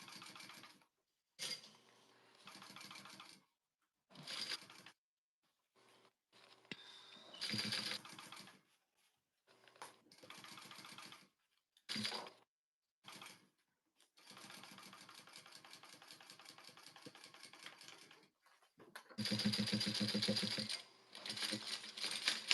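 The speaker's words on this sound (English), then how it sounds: "I just sewed on this side. I top stitched it." A sewing machine top stitches a zip crossbody bag in repeated bursts of rapid mechanical rattling, each a second or two long, separated by short pauses, with a longer run near the end.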